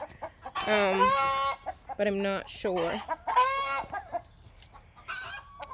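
Midnight Majesty hens cluck and squawk in repeated bursts close by, with a brief spoken voice near the end.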